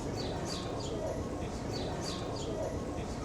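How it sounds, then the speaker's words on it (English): A house sparrow calls from a rooftop in a Brighton street, giving short repeated chirps at a steady rhythm over constant loud street and crowd noise. "I've just been stopped in the street by a little house sparrow calling from the top of this roof"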